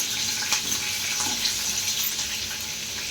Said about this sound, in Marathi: जिरं बघा कसं तडतडत आहे